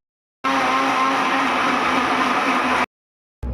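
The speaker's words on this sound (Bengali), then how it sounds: "চলো এবার আমি রান্না করবো বলে এবার মিক্সিতে পেস্ট করে নিই" An electric kitchen mixer grinder whirs as it grinds spice paste, a loud, steady motor roar running for about two and a half seconds, then cutting out abruptly before briefly starting up again.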